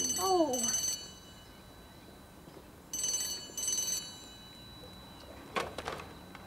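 An old telephone bell rings in two short bursts a couple of seconds apart, clear and moderately loud, with a brief voice at the start and other clattering sounds near the end.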